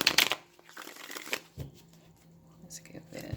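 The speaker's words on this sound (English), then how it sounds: "One more shuffle." Tarot cards are shuffled by hand up close, with a burst of crisp riffling at the start and then softer, scattered card slides and taps, fairly quiet overall.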